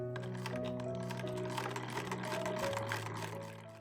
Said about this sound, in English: I decided to take out my Singer 12 instead of my treadle Singer 15.